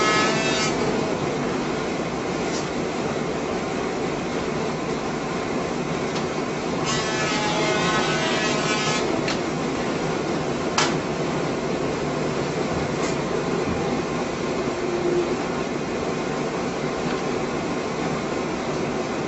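BQ-160 PUR perfect binder running with its PUR glue unit, a steady mechanical hum with repeated clicks and brief rattling bursts at intervals, continuous and fairly close, no voices.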